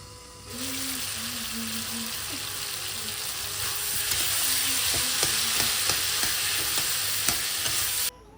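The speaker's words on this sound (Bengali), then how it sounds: "মানে আমার কুমড়োগুলো ভাজা হয়ে গেছে এখন হালকা জল দিয়ে আমি এটাকে সেদ্ধ করে নেব" Fried pumpkin pieces sizzle loudly in a pan after a little water is added, a steady hissing boil with stirring clinks, cutting off abruptly at the end.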